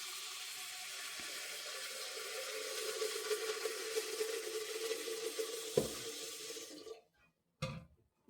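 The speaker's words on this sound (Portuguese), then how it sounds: "Vou colocar água aqui na panela." A steady stream of tap water pours into a cooking pot, hissing and rising in pitch as the pot fills, then cuts off with a few clanks.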